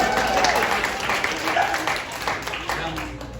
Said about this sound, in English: This is where you guys clap.